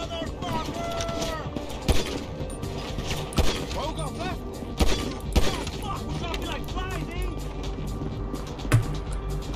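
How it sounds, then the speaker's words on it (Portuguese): Gunfire in a video game crackles in scattered bursts and single sharp shots, with several louder reports standing out over a busy background while a voice talks over it. "Quem tá atirando do outro lado?"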